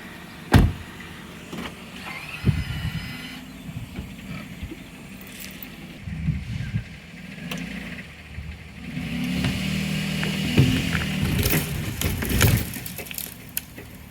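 An all-wheel-drive Lexus RX 350 straining to pull out a tree outdoors, its engine revving in surges with occasional sharp cracks and creaks of wood, no talk.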